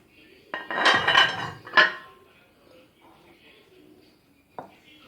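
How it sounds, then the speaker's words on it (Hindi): Spices stirred into a bowl for homemade chicken noodle cutlets: a few bursts of spoon scraping and clinking against the dish, then quiet with one final short clink. "ये सारी स्पाइसेस डाल के अच्छी तरह मिक्स कर लेंगे।"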